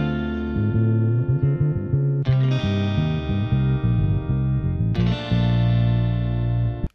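An electric bass guitar plays a line, loud and close, with short melodic notes moving around the chords and a few held tones, alone with no talking.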